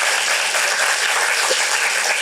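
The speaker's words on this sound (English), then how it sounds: "Let's give Daniel a round of applause" Audience at a young playwrights' festival cold reading applauds an actor, a steady dense patter of clapping from a room full of people, filling the clip alone without talk.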